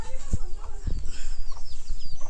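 Chickens clucking at a rural home in Bangladesh, several short close clucks and calls in an irregular rhythm, moderately loud.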